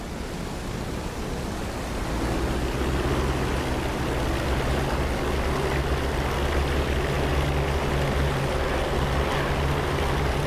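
A P-47 Thunderbolt fighter's propeller engine roars steadily in a flight simulation game as it begins its takeoff roll on runway 27 at St. Pierre, a dense, constant drone that rises slightly after the first two seconds and holds loud throughout.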